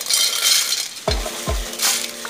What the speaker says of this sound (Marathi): चला आपण सर्वात आधी मिरची भाजून घेऊया